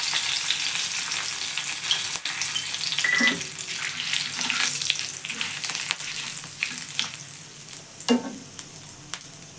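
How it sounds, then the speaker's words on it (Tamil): Onion fries in a pan with curry leaves for peas pulao, a steady close sizzle broken by repeated clinks and scrapes of stirring, plus a few louder knocks toward the end, with no voices. "இப்போ வெங்காயத்தை ஊற்றிக்கிறேன்."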